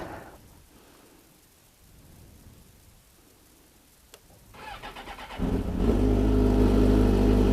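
A motorcycle engine starts after a quiet stretch, then settles into a loud, steady warm-up idle with a deep continuous rumble close by.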